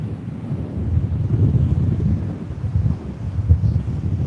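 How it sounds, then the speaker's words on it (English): Wind gusting over a coastal rock, a steady low rumbling buffet against the microphone that swells and eases throughout, loud and close with no other sounds. "let the wind blow over the top of us"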